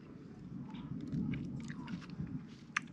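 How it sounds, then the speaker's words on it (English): Close chewing and biting of steamed fish at an outdoor one-pot lunch in Jamaica, moist mastication with small crunchy clicks over a low steady background, no speech. "You can't chew fish."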